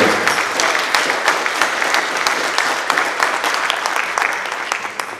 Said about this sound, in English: can we give all of our CTE winners a big round of applause?